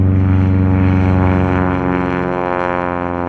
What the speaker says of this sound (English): did its first flight over the Winchester, Virginia airport after the overhaul and conversion